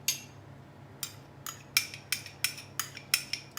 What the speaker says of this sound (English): We simply mix all of this together